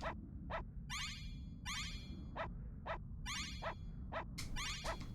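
Barking from a dog in the Secret of Evermore video game: a series of short, sharp bursts repeating at an uneven pace over a steady low background hum, with no voices.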